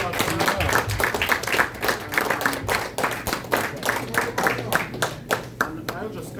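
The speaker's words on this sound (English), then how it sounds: "Give us a round of applause." A gathered audience at a summit claps in loose rhythm, dense overlapping hand claps sustained for several seconds at close range with no talk over them.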